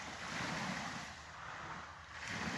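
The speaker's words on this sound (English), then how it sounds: "The point of the boat passing by, I hear its engine" A boat motors past on open water, its engine blending into a broad, steady wash of waves and wind that swells and eases slightly, with no talking.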